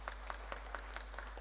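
A congregation at a Kikuyu church service claps in a steady, evenly spaced rhythm, about seven crisp claps over a low constant hum, sounding somewhat distant and thin.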